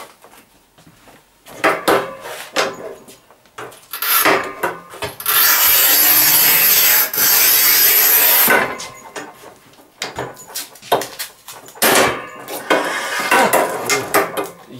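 A Rubi manual tile cutter works through tile with repeated scraping and clacking strokes, including a long continuous scoring rasp in the middle and sharp knocks before and after.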